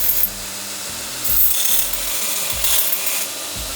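Knife blade being ground to shape with a power grinder while making a knife, heard as repeated rasping, abrasive passes that swell and fade in bursts, close and fairly loud with no talking.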